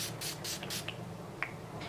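A makeup setting spray is misted over a face in a run of about four short, airy hissing bursts close to the mic, followed by one more spritz near the end.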